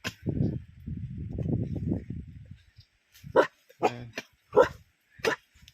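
A black dog gives a few sharp barks at close range in a forest, spaced apart after a stretch of low growly rumbling; no talk.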